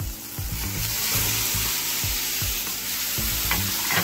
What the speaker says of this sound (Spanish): Y ahí le agregamos los ñoquis